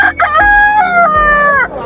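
A black rooster at a pet market crows once, loud and close, in a long drawn-out call that rises and then trails off.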